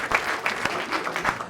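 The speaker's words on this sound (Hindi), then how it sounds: "एक बार जोरदार तालियां अंकित शर्मा के लिए" Audience applause for a stage performer on a comedy talent show, a short burst of scattered, fairly close hand claps with a few sharper individual claps standing out.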